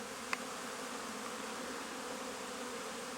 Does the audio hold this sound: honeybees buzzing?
yes